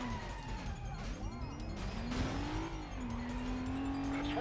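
A car in the stunt-driving video game Stuntman revs and pulls away, a steady engine drone with a rising pitch sweep midway, sustained and fairly loud throughout with game sound layered over it.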